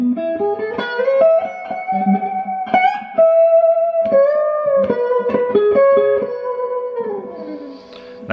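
Electric guitar plays a melodic solo passage from a song, as performed live at the O2 London, with bends, slides and sustained distorted notes, loud and close with no talking.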